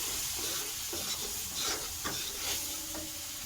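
Watermelon rind curry with turmeric and salt is stirred in a hot pan under a continuous hiss of sizzling and steam, with soft intermittent scraping strokes and no voices.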